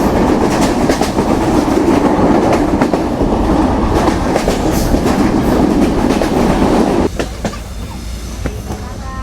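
The Sagardari Express runs on rails between Rajshahi and Khulna, a loud continuous rumble with rhythmic clickety-clack of wheels that drops slightly in level near the end.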